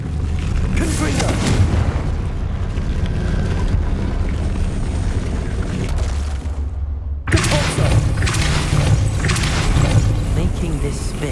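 A Confringo fire spell bursts in the video game Hogwarts Legacy, a loud, deep booming blast with rumbling broadband noise throughout. The sound surges sharply again partway through.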